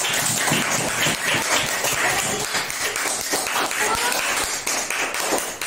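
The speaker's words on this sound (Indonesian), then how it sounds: "Nah, tepuk tangan untuk jawaban yang sudah disampaikan." Classroom applause from students at a teaching practice session, a dense, steady round of many hands clapping close by for several seconds.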